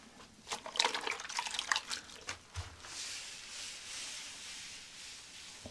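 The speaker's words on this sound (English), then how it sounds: "Cleaning time. Got myself some soapy water." Soapy water is sloshed and scrubbed across a surface while cleaning a shed workspace, with wet splashing bursts at first followed by a softer, steady hiss of washing, close and without talk.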